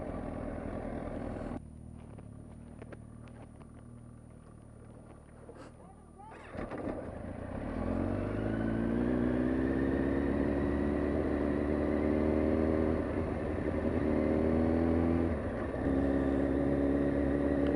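A motorcycle with a failed clutch is ridden home through traffic, idling unevenly at first, then the engine catches and revs up into a loud, sustained drone with rising pitch, ridden close by.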